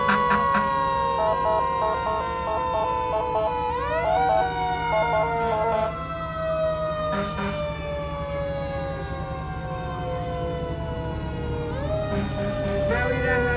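Fire department engines in an Independence Day parade sound their sirens together, several overlapping wailing tones rising and falling continuously over a low engine rumble.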